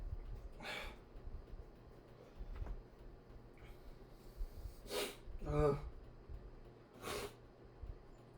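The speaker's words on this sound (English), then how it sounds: "I hate when you can't sneeze." A person attempts a sneeze that never arrives, producing several sharp, breathy intakes and snorting bursts close to the mic over a soft background hum.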